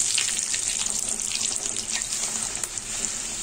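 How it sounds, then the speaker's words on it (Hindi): Bhatura frying in hot oil over medium heat, a steady, loud, hissing sizzle that runs continuously without pause, close up. "इसी तरह भटूरे को तेल में से मीडियम आंच में"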